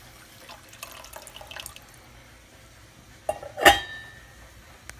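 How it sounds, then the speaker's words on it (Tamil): Tamarind water is poured into a pan of rasam with tomato, producing a short liquid splash and trickle up close after a quiet stretch of faint kitchen clatter. "இப்போ இதுக்கு அடுத்து நம்ம புளியவும் இது கூட சேர்த்துக்கலாம்"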